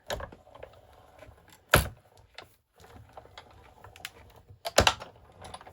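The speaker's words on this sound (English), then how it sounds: "And let's die cut through." A manual die cutting machine presses a die through paper for a stamped mixed media journal page, giving a couple of sharp, loud clicks over a low rolling rumble and soft mechanical rattles, close by, with no talking.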